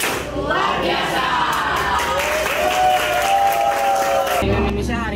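A classroom group of students gives an appreciation clap, steady close clapping mixed with cheering voices that rise in chanted tones throughout, ending with a short burst of louder noise.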